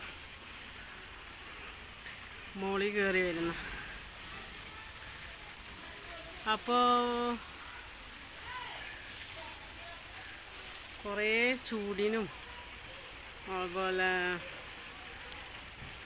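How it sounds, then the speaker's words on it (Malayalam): The first light drizzle of the season in Pune makes a soft, even patter that continues throughout, while a nearby voice talks in short bursts over it. "നമുക്ക് ഫസ്റ്റ് മഴ ചാറുന്നു എന്ന് പറയാം കേട്ടോ"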